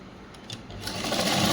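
Sewing machine running steadily while stitching a churidar top for a school uniform, a soft whirring that builds louder and denser toward the end, with no talk.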